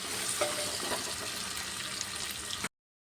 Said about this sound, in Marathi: आता याच्यामध्ये मी टाकणार आहे मटार ते बी थोडे टाकणार आहे आणि थोडे ठेवणार आहे आणि ते पण व्यवस्थित परतून घेणार आहे